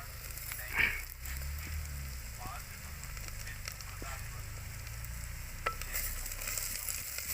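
Capsicum frying in a clay pot for Maggi, a steady soft sizzle with light crackle running throughout, fairly close and even in level, with a couple of brief clinks of a utensil.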